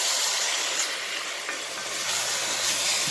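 Fish gumbo simmering and sizzling in a pot as tomatoes go in, a steady broadband frying hiss close up, with a faint stir or clink around the middle and no talk.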